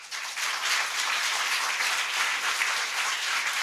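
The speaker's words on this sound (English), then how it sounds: "they deserve a huge round of applause" An audience in a hall claps for 21 students receiving Platinum Hallam Awards, a dense, bright, even applause that starts at once and holds steady throughout without any voices.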